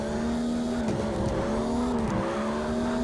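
Race car in CarX Drift, driven with a controller, holds a loud, steady engine drone with tire squeal, the pitch dipping and rising twice as the car slides through corners.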